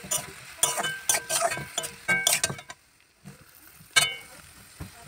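Cauliflower stalks with onion and garlic fry in a pan under a lid, with repeated metallic clinks and scrapes of stirring over a soft sizzle, close by.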